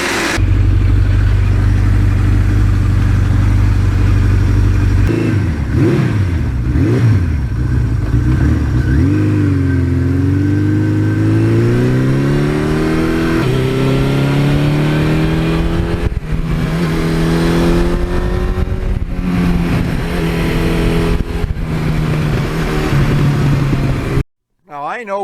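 A 1982 Suzuki GS1100E motorcycle engine idles loud and close, then revs up and down several times with rising and falling pitch, settling back to a steady idle before cutting off near the end.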